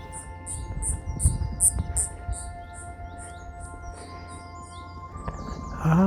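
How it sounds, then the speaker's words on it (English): Small birds chirp in a steady series of high, bright notes, moderately close, over a low background murmur in a Cape Town garden. "You can find a quiet bench, sit under a tree and just listen to the birds"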